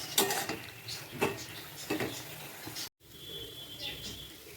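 Carrot laddu mixture with dry fruits stirred in a pan, giving a few short scraping and clinking strokes of a spoon against the metal at a steady pace, fairly close but quiet, with a brief gap near the end.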